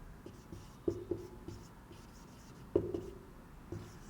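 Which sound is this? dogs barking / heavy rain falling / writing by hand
writing by hand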